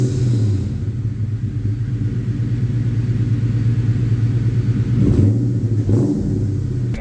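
A Ford Mustang rumbles steadily through a new aftermarket exhaust, a deep continuous low burble heard close, with a couple of brief revs late on.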